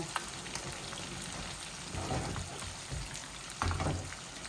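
Hot oil sizzling as a tempering (baghar) fries for a pangas fish curry cooked with turnip, a steady soft crackle with a few louder spits and pops, close but fairly quiet, no talking.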